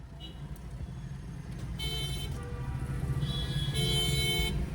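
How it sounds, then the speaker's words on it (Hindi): A car horn honks amid busy city traffic while a learner drives, loud and sustained over the steady road rumble, with another horn tone joining near the end. "लॉन्ग हॉर्न प्रेस करो, क्योंकि यहाँ पे कोई रुक नहीं रहा है।"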